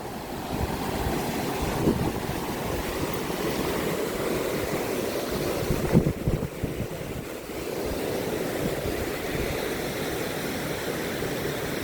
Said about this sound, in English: Beautiful little waterfall tucked away here.